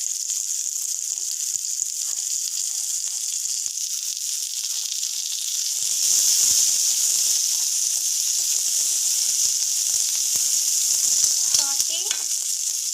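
Coriander leaves and garlic pieces fry in hot oil with a steady, close sizzle and occasional stirring sounds throughout.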